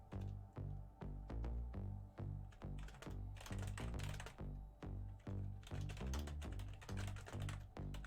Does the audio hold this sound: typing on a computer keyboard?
yes